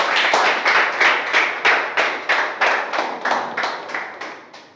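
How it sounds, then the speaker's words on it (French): An audience clapping in unison on request at a French-language classroom coaching session, a steady run of about a dozen crisp synchronized claps that fade slightly toward the end. "Acclamez pour moi, s'il vous plaît."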